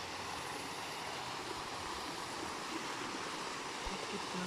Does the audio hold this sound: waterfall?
yes